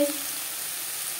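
Onion, garlic and spices frying in a pan for a soyabean curry, a soft steady sizzle close by after a brief clink at the start, with no voices.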